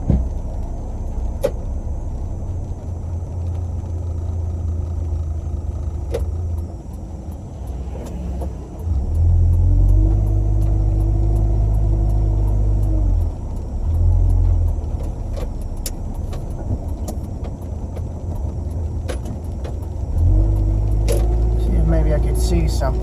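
Interior of a car driving on a road in the rain, a low steady engine and road rumble that swells as it accelerates, running continuously throughout.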